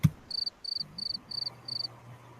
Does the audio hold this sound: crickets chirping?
yes